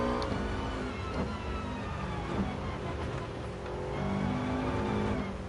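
Rally car engine in GT Sport droning and revving continuously as the driver powers out of corners, a steady mid-level motor tone with slight rises and falls in pitch.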